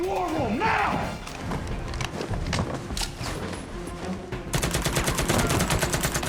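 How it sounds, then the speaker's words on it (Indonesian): An intense gunfire exchange in an action film: rapid bursts of shots and thuds crackle over shouting voices, then a dense, rhythmic machine-gun volley takes over loudly at the end. "Terjadi aksi baku tembak yang sangat sengit di tempat itu."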